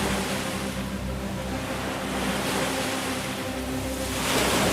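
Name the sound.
sea waves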